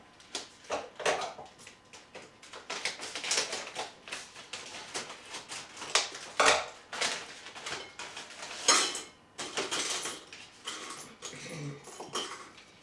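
A bag of Malaysian freeze-dried mango being cut open and handled: crinkly plastic rustles and scissor snips in irregular bursts, close and fairly crisp, with no talking.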